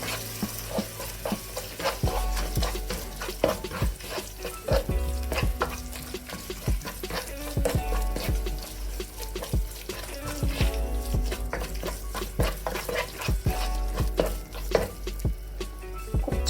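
A spoon scrapes and stirs ground masala loosened with hot water in a pan for chicken vindaloo, sizzling and bubbling continuously with frequent close clinks and scrapes against the metal.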